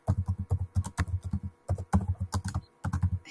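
Rapid bursts of keystrokes on a computer keyboard while entering button text in a design app, crisp close clicks in quick clusters separated by brief pauses.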